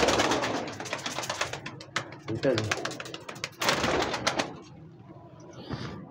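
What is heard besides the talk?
pigeons cooing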